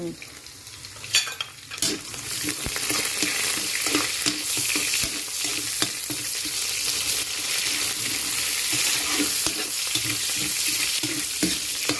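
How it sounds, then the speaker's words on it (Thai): Chopped garlic frying and being stirred in hot oil in a pan, a loud, continuous close sizzle with scraping stirs throughout and no talk. "เกี่ยวกระเทียมให้หอมๆนะทุกคน"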